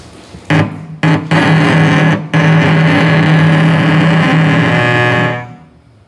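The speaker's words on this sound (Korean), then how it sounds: "브릿지 위에서 하는 보우 프레셔의 소리를 들려드리겠습니다." A cello bowed forte right on the bridge under heavy bow pressure gives a harsh, gritty, buzzing tone, loud and close: a few short broken strokes, then one long sustained stroke that stops abruptly.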